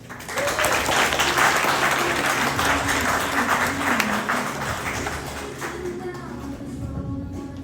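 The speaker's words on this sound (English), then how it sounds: "A round of applause for all the volunteers and help, including from Daphne, for pulling this conference together" Conference audience applauding the volunteers, a dense burst of clapping that swells early and then slowly tapers off, with a voice heard faintly underneath near the end.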